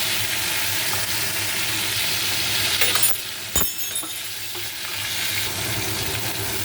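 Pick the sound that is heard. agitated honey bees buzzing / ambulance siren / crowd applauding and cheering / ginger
ginger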